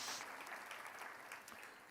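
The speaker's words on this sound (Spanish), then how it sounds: "¿Cuántos pueden dar un aplauso a Dios por el regalo de la Biblia?" A church congregation claps during a Christmas sermon, a brief, steady wash of applause throughout, moderately distant and fairly soft, with no talk over it.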